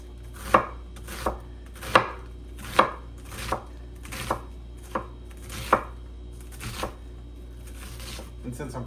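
Onion being chopped on a cutting board for kefta kabob, a series of about a dozen crisp knife thuds at a steady, slightly uneven pace, close and fairly quiet, with no talking.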